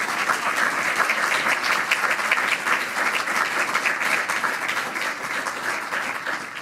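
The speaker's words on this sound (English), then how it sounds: "So let's give him another round of applause." A large audience at a university school dedication event applauds, dense sustained clapping that carries evenly before tapering slightly at the end.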